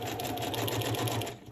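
A sewing machine runs a straight stitch in a steady, continuous mechanical whir with a fast rhythmic chatter, close and fairly loud, with no talking, while holiday cluster embellishments for a December Daily journal are stitched.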